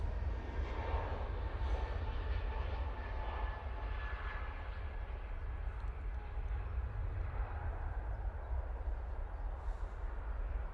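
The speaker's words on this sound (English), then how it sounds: "Here's another one of their 321 Neos." An Airbus A321neo airliner at Manchester Airport gives a steady, distant jet engine roar with a low rumble that holds evenly throughout.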